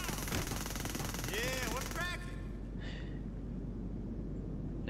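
Rapid bursts of gunfire crackle through a video game police chase, mixed with wailing siren sweeps and engine noise. Players talk over the action before the shooting thins out.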